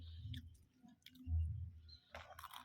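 Someone chews homemade crispy tempe chips close up, with soft moist mouth sounds that break into brittle crunching bursts near the end. The sound is faint overall.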